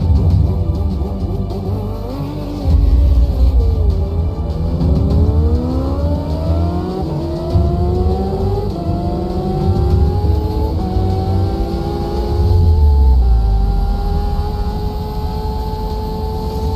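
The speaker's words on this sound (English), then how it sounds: "Kawasaki broke the production bike 0 to 400 kilometers an hour world record in only 26 seconds." A Kawasaki production motorcycle accelerates hard toward 400 km/h, its engine note climbing steadily through several gear changes, loud and continuous without talk.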